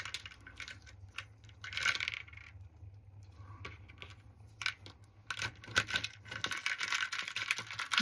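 Small plastic beads, bright cherry-red ones among them, poured and stirred in a container as loose clicking rattles and tumbling patters that come in bursts, with quieter gaps between, close and fairly soft.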